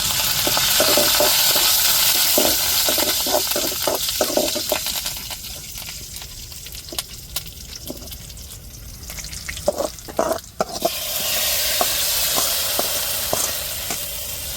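Curry leaves hiss and crackle loudly in hot oil for dry fish curry, with scraping stir clicks; the sizzle eases in the middle and then surges back, steady and close.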